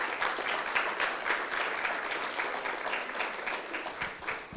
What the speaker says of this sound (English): So I think Eric deserves a big round of applause.